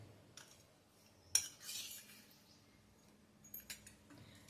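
A metal spoon clinks against a bowl while adding jaggery to tamarind chutney: a few sharp chinks and scraping taps, quiet and close, with no talk.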